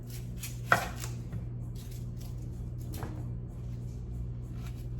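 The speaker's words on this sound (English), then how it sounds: "I'm just gonna cut this end off and leave the root part on." A knife cuts the end off an onion on a board with one sharp, close chop, followed by a few softer taps and scrapes over a steady low hum.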